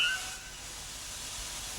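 A train at a station hisses with a steady broadband rush of steam, a short whistle-like tone at the start and a slight swell at the end, with no voices.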